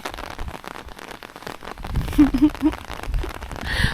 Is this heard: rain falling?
yes